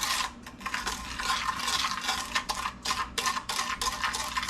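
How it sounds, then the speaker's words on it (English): A whisk scrapes rapidly around a bowl, mixing a cinnamon sugar mixture for rolling pumpkin snickerdoodle cookies, giving a quick, rhythmic, close-up brushing and rasping with no talk. "So I'm just going to mix it up with this whisk that I use for the flour mixture."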